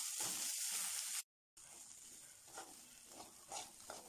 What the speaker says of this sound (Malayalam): ഈ മസാല ഒന്ന് നന്നായിട്ട് മൂപ്പിച്ചെടുക്കണം.